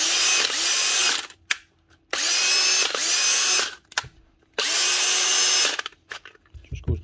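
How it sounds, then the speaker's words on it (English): A repaired Dewalt cordless drill whirs loudly in three bursts of a second or two each, with short pauses between them and a faint clatter at the end. "On Dewalt drill,"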